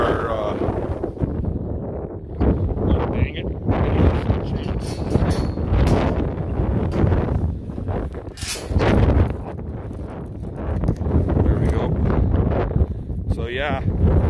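Strong morning wind gusting straight into the microphone outdoors near a barn and pasture, loud buffeting rumbles that rise and fall throughout while someone talks over it.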